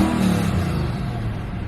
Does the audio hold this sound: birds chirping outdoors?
no